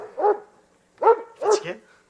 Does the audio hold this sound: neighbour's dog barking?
yes